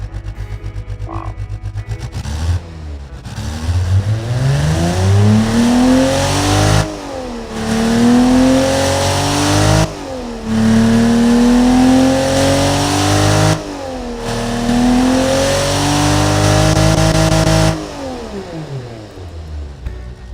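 A tuned engine with a new camshaft, rated 260 horsepower and 244 pound-feet of torque, revving up close and loud in several long sweeping pulls, dropping back between each climb before settling to idle.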